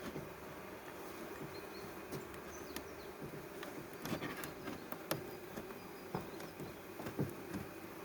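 A honeybee colony on a hive scale in February hums with a soft, steady buzz, the bees staying calm during the check, with faint scattered taps and rustles throughout.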